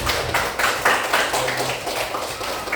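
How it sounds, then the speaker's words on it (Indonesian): An audience in a school setting gives a round of applause, loud, close, irregular claps from many hands building in uneven bursts across the whole stretch. "Kasih tepuk tangan lagi."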